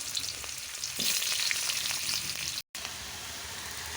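Potatoes and mixed vegetables including pumpkin, cauliflower and cabbage fry in a hot pan with soybean chunks, giving a steady close sizzle that swells briefly and then settles back to an even crackle.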